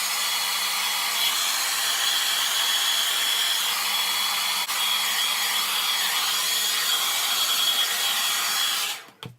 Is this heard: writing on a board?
no